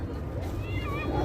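A cat meows in a Filipino home, a short, wavering high cry rising over steady background noise and nearby talk.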